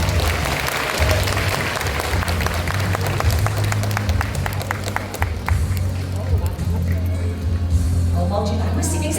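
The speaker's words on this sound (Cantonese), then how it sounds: "咁係咪值得一啲熱烈嘅掌聲呢？" Warm, sustained applause from a large audience fills a school graduation ceremony hall, steady dense clapping with a low hum of crowd underneath throughout.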